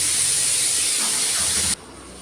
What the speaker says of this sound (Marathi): कुकर लावलं, कुकरची शिट्टी वाजवली